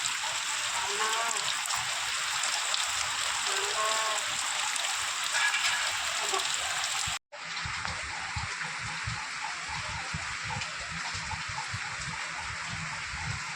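Steady rain pours down continuously with a hissing wash, briefly cutting out partway through before resuming just as heavily.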